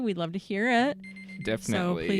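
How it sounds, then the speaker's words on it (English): An alarm beeps steadily in a room for about half a second, sounding under and between people talking. "I apologize for that alarm going off."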